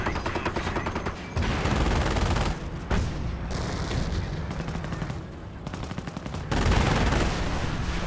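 Sustained battlefield gunfire in the World War II strategy game Company of Heroes, with dense machine-gun bursts and rattling volleys that swell and drop in loudness, punctuated by occasional heavier booms.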